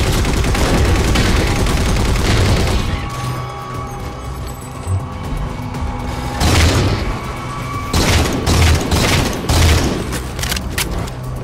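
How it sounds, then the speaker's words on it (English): Heavy bursts of incineration cannon fire in the Halo 4 video game, loud booming blasts and crackling explosions repeating over several seconds amid continuous battle noise. "Incineration cannon. Oh, that's going to break major damage to him."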